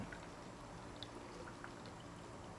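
A drink poured into an ice-chilled glass makes a faint, steady liquid rush with light splashy trickling for a couple of seconds, alone and with no talk.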